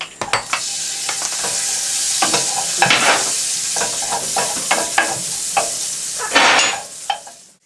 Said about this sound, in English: I'm going to cook the pancetta just to render off the fat.